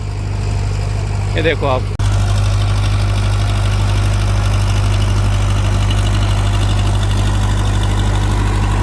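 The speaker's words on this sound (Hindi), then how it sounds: "सामने आप देखो किस तरीके से ट्रैक्टर खिंचाई कर रहा है" An Escort Kubota Digitrac tractor engine drones at a steady, heavy low pitch while pulling a load in a field, loud and constant, with someone talking briefly over it.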